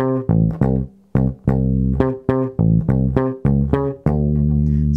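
Bass guitar plays the third and fourth bars of a disco riff, punchy plucked octave notes in a bouncing rhythm, each note clear and separated by short gaps, close and alone with no talking.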